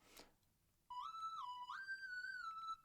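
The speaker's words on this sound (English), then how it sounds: "at the end of the song, where we really need the energy, we're bringing in a little counter melody, a whistle" A bright synthesized whistle counter melody made in Serum, closing out a song, enters after a short click. It glides up and down, then holds a clear sustained tone, close and alone.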